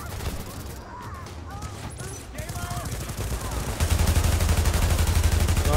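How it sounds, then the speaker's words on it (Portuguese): Gunfire from the video game The Division during a tunnel camp fight in Queens, with dense, continuous rapid shots that build louder toward the end. "Toma bala tu também, João."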